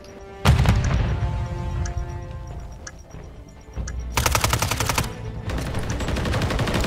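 Gunfire in Call of Duty MW3 during a search-and-destroy match: a loud single blast opens, then scattered shots, followed by two sustained, rapid automatic bursts close by.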